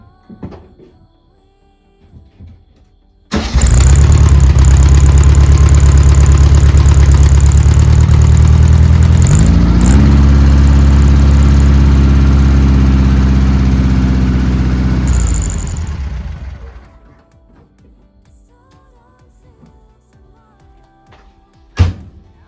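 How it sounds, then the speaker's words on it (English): A 1971 VW Super Beetle with a brand new engine and muffler tips starts up and idles loud and close for about twelve seconds, a steady rumbling air-cooled burble with a shift partway through, then shuts off into quiet background. "let me go ahead and show you what it sounds like really quick, so you can hear before we go to the car meet"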